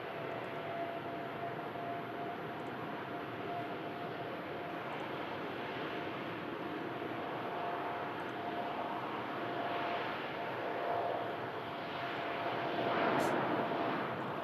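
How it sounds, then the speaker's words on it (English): A Juneyao Boeing Dreamliner airliner departs from Manchester Airport, its engines giving a steady, broad roar that holds for the whole stretch and swells slightly near the end, with no talk. "Junyao Dreamliner heading out."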